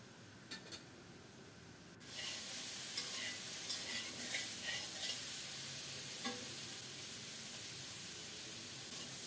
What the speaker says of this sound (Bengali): ফুলকপিটা ভাজা হয়ে আসছে